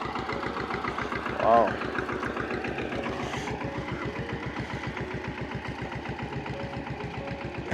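A tractor engine works a potato field during harvest in the Czech Republic, chugging in a steady, rhythmic pulse throughout with a brief voice over it.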